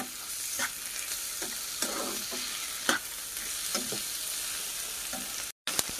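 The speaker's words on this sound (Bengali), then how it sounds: "একটু ভাজবো।" Onion, capsicum and chilli-ginger-garlic paste fry in a pan with a steady sizzle, broken by several sharp scrapes and clicks of a spatula being stirred through, ending in a brief silence.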